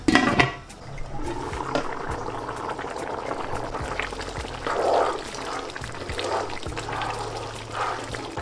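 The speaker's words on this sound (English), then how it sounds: "Now in that simmering water, you want to throw in your rice." Water bubbling and simmering in a covered pot as rice is added, with a soft pouring splash at the start and steady gentle bubbling throughout.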